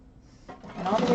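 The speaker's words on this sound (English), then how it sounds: "Oh, my machine is not happy with sewing such skinny fabric." A home sewing machine stitches thin, skinny fabric, its motor whirring up from quiet into a steady, fairly loud run over about a second, with a brief voice underneath.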